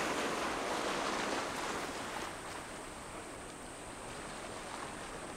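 Waves coming and going along the shore of Lake Tanganyika, a soft, steady wash of water with light wind noise, heard from a short distance and easing slightly in level.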